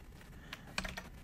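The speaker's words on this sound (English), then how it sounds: "the next thing I'm going to do is just type in a word." A few quick taps on a computer keyboard as a single word is typed, faint and close against a low background hiss, with no talking.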